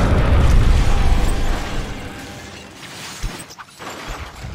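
A heavy, rumbling explosion as a bomber is destroyed in an Ace Combat jet dogfight, a loud low roar that slowly decays into a quieter background drone with a couple of small bumps.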